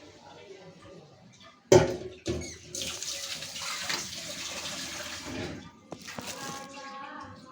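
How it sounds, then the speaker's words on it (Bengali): Water splashes into a pan of chicken curry with soybean chunks, starting as a sudden pour and settling into a continuous, close rushing and sizzling before it tapers off. "তার জন্য একটু জল দিয়ে দিলাম"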